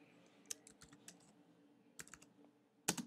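Keystrokes on a computer keyboard while entering label text for a Visual Basic 2010 Express form, arriving in a few scattered bursts of close, crisp clicks with quiet gaps between them.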